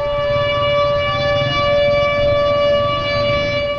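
A civil defense flood warning siren sounds as one loud, steady, sustained wail with bright harmonic tones, holding at an even pitch from start to finish with no voices.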